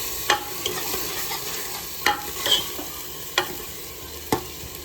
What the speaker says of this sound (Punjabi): ਇਸ ਨੂੰ ਕੜਛੀ ਦੇ ਨਾਲ ਹਿਲਾਉਣਾ ਤੇ ਤੜਕੇ ਨੂੰ ਚੰਗੀ ਤਰ੍ਹਾਂ ਆਪਾਂ ਲਾਲ ਕਰਨਾ